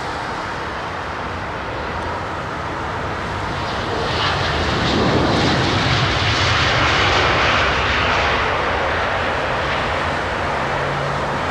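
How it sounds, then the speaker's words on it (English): An Emirates Airbus A380 arrives at London Heathrow with a loud, broad jet roar that builds over the first few seconds. It peaks at close range, then holds steady as the airliner passes. No voices are present. "we were rudely interrupted by the Emirates 380"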